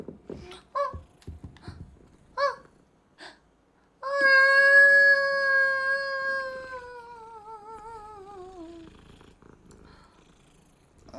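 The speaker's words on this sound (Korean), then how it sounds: "고양이가 왜 이렇게 많아?" Cats in the video game Hogwarts Legacy: a few short chirpy meows at first, then a long drawn-out wavering meow that slowly falls in pitch and fades, close and clear with no talking.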